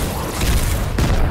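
Ground cannon kill effect in the video game Heroes Battlegrounds: a loud, dense booming blast with rumbling low end and a sharp impact crack near the end, heard alone without talk.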